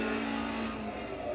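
A race car of about 200 horsepower drones steadily in a VR racing simulator, a dense, continuous engine roar held at a constant pitch with no voices.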